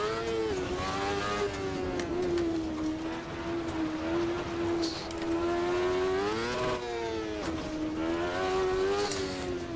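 Kartcross car engine in the racing sim Automobilista 2, revving hard and steadily at high pitch, with quick dips and surges in pitch as it shifts, loud and close throughout.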